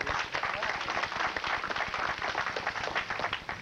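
Applause from a crowd at a 1989 polo game in West Hills, continuous moderate clapping, somewhat distant, lasting a few seconds.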